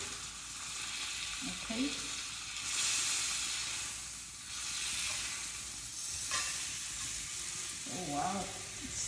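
A thick T-bone steak sears in a pan with a continuous close sizzle and hiss that rises and falls in waves, while a person speaks briefly over it.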